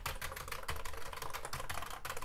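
Keys on a Commodore 64 keyboard pressed one after another in a steady run of close, loud clicks and clacks, with no talking over them.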